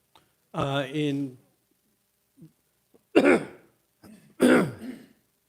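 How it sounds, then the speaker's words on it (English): Someone clears their throat during a city council meeting, first with a drawn-out voiced rasp and then with two sharp, close coughs separated by brief silence. "Sorry, had to cough there."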